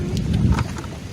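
Heavy rain driven by strong storm winds over a village during a damaging windstorm, heard as a loud, steady roaring wash with deep low rumbling gusts throughout.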